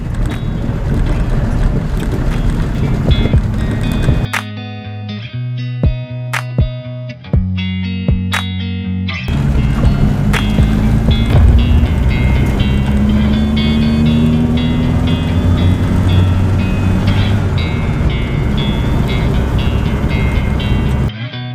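A fully restored Austin Mini on its first drive: a steady engine drone with a brief choppy pause, then revs rising and settling as the car pulls away, heard close up with wind buffeting the microphone and no talking.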